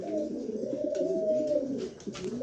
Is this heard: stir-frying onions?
no